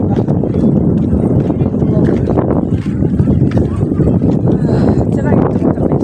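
Strong wind buffets the microphone outdoors during a family temple visit, a loud continuous low rumble with gusty surges filling the whole stretch while a person talks over it.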